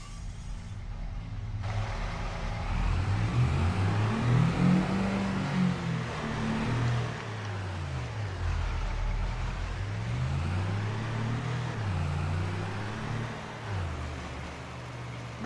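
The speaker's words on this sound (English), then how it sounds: "Let's see what truck. Let's take out the classic today." A truck engine driving in the video game Farming Simulator 25, a loud steady drone whose pitch climbs and falls as it shifts through gears, with no talking.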